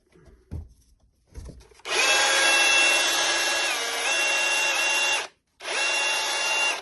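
A cordless drill with a low battery whirs loudly at steady speed for a few seconds, briefly stops, then spins up again; a couple of soft knocks precede it.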